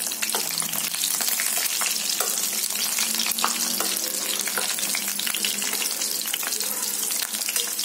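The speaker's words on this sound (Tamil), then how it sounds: "இப்படியே நம்ம பொரிச்சு எடுத்துக்கலாம்." Potato snacks frying in hot oil, a continuous bright sizzle and crackle with scattered pops throughout, close and even in level.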